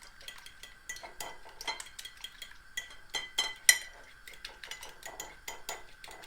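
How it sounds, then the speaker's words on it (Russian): Egg whisked with a fork in a bowl: fast, rhythmic metallic clinks and taps of the fork against the bowl, close and fairly quiet, with an uneven tempo and a few sharper strikes. "Взбили яйцо"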